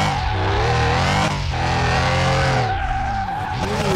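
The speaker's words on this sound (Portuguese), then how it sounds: "ele tá catando muito pneu, muito" Tires on a lowered VW Beetle with 21-inch wheels and a 500 hp turbo Boxster engine screech in a loud, sustained wheelspin squeal, the engine note rising and falling beneath it, close by with no talk.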